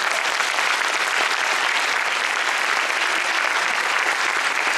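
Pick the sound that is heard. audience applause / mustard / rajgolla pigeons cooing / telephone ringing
audience applause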